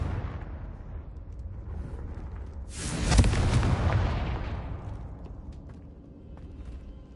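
Confringo fire spell exploding in the Hogwarts Legacy video game, a loud burst that swells from a steady rumble and then slowly fades into a lingering roar, with no voices.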